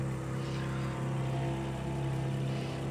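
Race cars in the racing video game Automobilista 2 drone past as a steady, fairly faint engine hum that holds at an even level throughout, with no sharp peaks.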